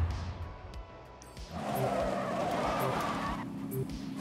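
B-class buggies race in Forza Horizon 5: an engine drones under tires that skid and squeal in a sustained slide after a quieter start, loud and close, with occasional clicks.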